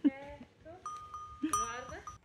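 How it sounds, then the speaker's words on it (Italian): Goats at an Alpine mountain picnic spot with benches and tables, bleating several times in quick, close, wavering calls, with people talking nearby. "le capre continuavano a seguirci per mangiare"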